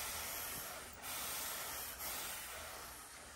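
A steady, broad hiss of steam from a Sunbeam Valet garment steamer runs continuously nearby, briefly dipping twice before carrying on at an even level.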